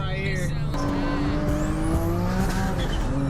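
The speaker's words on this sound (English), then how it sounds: "that turbo noise is crazy though" An 800hp turbocharged Infiniti G37 runs at speed with a rising turbo whistle and whine over a steady engine roar, loud and continuous, with faint tire noise underneath.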